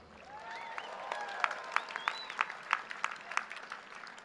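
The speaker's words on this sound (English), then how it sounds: "how about another cheer for the band and for Linda?" A university commencement crowd cheers and applauds for the band, with high whoops and whistles rising over a bed of clapping and sharp individual shouts.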